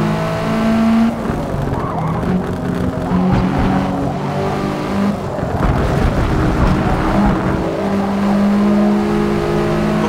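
A race car engine revs and accelerates steadily in Forza Motorsport on a track, loud and continuous with shifting engine tones and faint tire noise, no talk.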